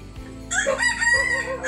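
A rooster crows once, loud and close, a long rising and falling cock-a-doodle-doo over a faint background hum.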